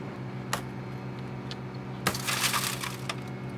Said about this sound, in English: using a tool and not our hands, we're able to clear the glass out